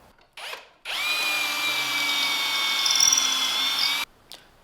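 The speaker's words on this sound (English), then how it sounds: "now I'm going to drill some pocket holes in the bottom" A power drill boring pocket holes into the bottom of a wooden bookshelf cabinet, one steady high whine lasting about three seconds with brief spin-ups before and after, close and loud with no talking.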